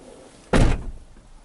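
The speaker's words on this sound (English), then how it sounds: "when you open the door, bam" A Dodge Ram 1500 pickup door gives a single loud thunk midway, close and short, with quiet cab noise before and after.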